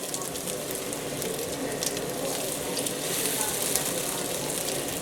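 Salmon patties fry in a pan with a steady, dense sizzle and crackle of hot oil that runs continuously at moderate volume, without a break.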